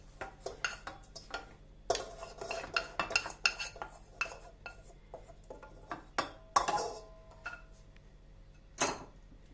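Bulgur tipped into a pan of fried onion and carrot, with a run of close, sharp clinks and scrapes of a utensil on the pan that come in irregular bursts and fade to a few final knocks.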